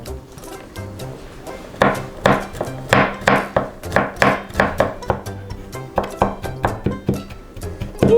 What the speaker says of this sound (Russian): И измельчим чеснок. Ну, мы измельчим на мелкие куски.